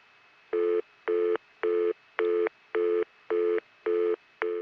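Repeating tone bursts on a 1978 Florida step-by-step telephone switch line near Ocala, eight evenly spaced pulses of about half a second, steady and clear with no talk.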